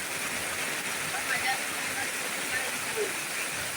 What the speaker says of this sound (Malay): Nah, air macam bah, air macam bah mengalir.